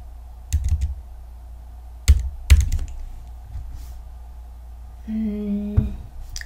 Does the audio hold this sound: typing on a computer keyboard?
yes